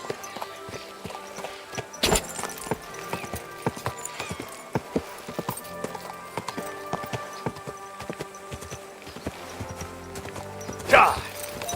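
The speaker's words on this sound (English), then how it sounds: "Watch out with that horse!" Horse hooves clip-clop steadily at a walking pace in the video game Kingdom Come: Deliverance II, moderately close, with muffled voices and background noise mixed in.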